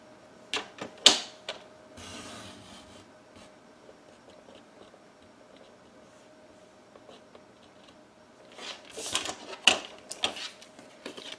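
Paper being punched on The Works All In One punch board, sharp close clacks and thumps in an opening cluster, a quiet gap with faint rustling, then a denser run of clicks and punches, with no speech.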